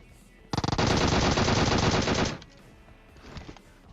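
Uzi submachine gun firing in PUBG Mobile, a loud rapid burst of automatic fire lasting about two seconds, followed by a quieter rattle of distant shots.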